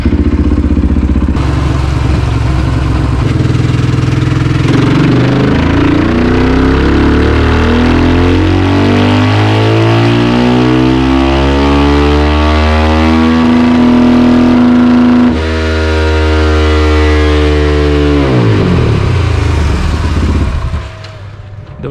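A KTM 500 EXC supermoto single-cylinder engine pulling hard in sixth gear, its loud, close roar climbing steadily in pitch over about fifteen seconds toward top speed, then dropping briefly before climbing again and easing off at the end.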